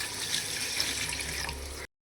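About seven glasses of water pouring steadily into a pot of washed rice with onion paste, a continuous close splashing rush that cuts off abruptly.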